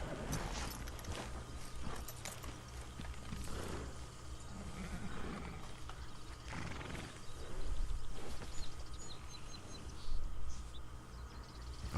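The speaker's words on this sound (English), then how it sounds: "Oh, that's that one horse I took." Horse sounds in the open-world western game Red Dead Redemption 2, with low hoof and movement noise running steadily beneath a constant game ambience, fairly quiet, with no talk.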